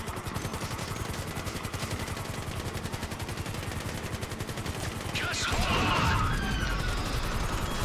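Rapid automatic gunfire in Grand Theft Auto V, a long unbroken burst of shots followed by a heavier crash or explosion near the end, with someone speaking briefly over it.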